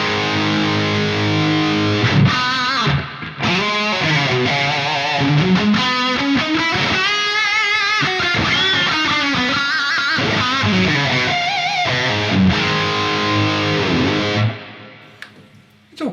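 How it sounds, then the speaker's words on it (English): Distorted electric guitar played through a Peavey 6505 MH tube amp with its built-in reverb, a sustained overdriven riff of chords and single notes ringing for about fifteen seconds before cutting off. "well, there's a reverb included."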